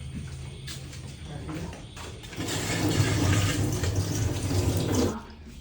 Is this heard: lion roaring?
no